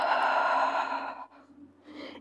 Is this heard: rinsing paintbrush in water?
no